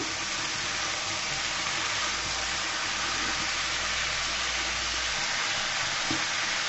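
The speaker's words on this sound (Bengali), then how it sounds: "আমি সুন্দর করে মিশিয়ে দিচ্ছি আলুর সাথে।" Flat beans and potatoes fry in a pan while being stirred, a steady close sizzle with scraping stir sounds running throughout, no talking.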